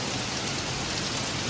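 A torrential evening downpour on Dale Hollow Lake in July roars as a loud, unbroken hiss of rain, close and continuous with no talk.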